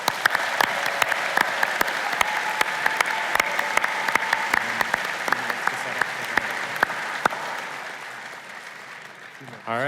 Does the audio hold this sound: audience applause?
yes